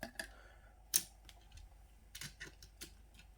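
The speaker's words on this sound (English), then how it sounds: "time to rip open these Matchbox" Matchbox toy car packaging being ripped open, with sharp crackling tears of cardboard and plastic, one loud snap near the start and bursts of crinkling later, close and fairly quiet.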